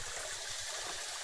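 Mountain stream water flowing steadily at a water point near a camp on Gunung Tahan, a continuous close rushing wash filling the whole short stretch with no voices.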